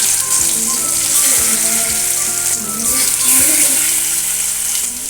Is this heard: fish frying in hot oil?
yes